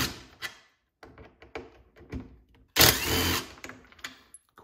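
A power driver fitted with a T27 bit backs screws out of a Stihl MS261C-M chainsaw, giving short whirring bursts between light taps and clicks, then one louder sustained run near the end.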